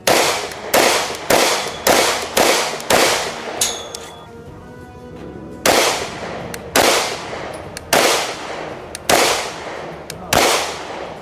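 Rapid, loud shotgun blasts from a Derya DY9 Island with muzzle ports, fired in quick close strings of about a shot per half second, one brief pause with a metallic clatter, then another run of booming shots.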